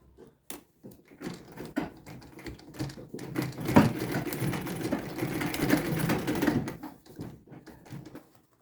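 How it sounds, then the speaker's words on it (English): A sewing machine stitches down a panel on a structured tote bag, running steadily for several seconds with a rising mechanical whir between short starts and stops, close and alone. "So I'm going to sew it down."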